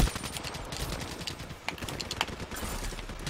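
Gunfire in a shooting video game: rapid bursts of shots, several crackling close together. The rhythm is irregular and the shots are fairly loud throughout.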